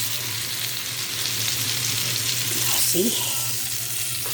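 Tortang talong, an eggplant omelette, sizzling in hot oil in a pan, a steady loud frying hiss throughout, with a brief spoken word and a little clatter near the end.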